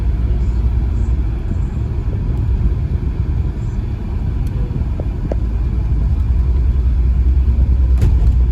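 Audi A6 driving along, a loud continuous low rumble of engine and road noise from inside the car, steady throughout with faint clicks.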